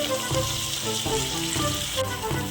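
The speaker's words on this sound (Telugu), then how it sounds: "మామిడికాయ తురుము వేసుకుందాం పచ్చి వాసన పోయేంత వరకు వేయించుకోవాలి" Grated raw mango fries in a pan, a loud continuous sizzle with faint scraping of stirring woven through it, close up and with no voices.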